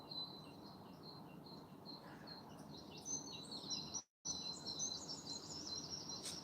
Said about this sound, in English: The birds always sound happy out there.